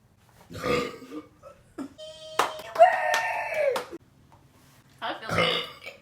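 A woman lets out a long, loud, drawn-out burp after eating Chinese food, close up, with short bursts of nearby talk and laughter before and after it.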